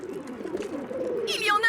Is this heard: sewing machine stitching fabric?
no